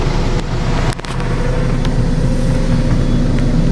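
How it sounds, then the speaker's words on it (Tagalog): An automatic robot car wash machine moves around a car, heard from inside as a continuous loud mechanical rumble and whir with a few brief knocks. "So yun pa rin yung machine na yun. And iikot na naman siya dito sa ating sasakyan mga travelers."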